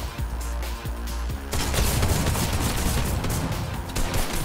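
Shotgun blasts in a fast-paced first-person shooter video game, with loud repeated booming shots and heavy gunfire filling the mix without pause.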